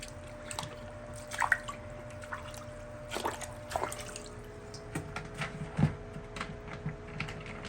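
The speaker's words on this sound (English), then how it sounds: "And I guess I'll probably rinse these sponges out in here too." Aquarium filter sponges are rinsed out in water, giving faint, scattered drips and splashes with occasional small knocks against a quiet background.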